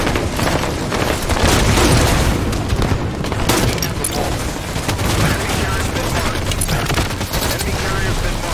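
Rapid explosive bursts and gunfire in Halo 5: Guardians online play, a dense, loud barrage of booms and rattling shots with a voice briefly under the din.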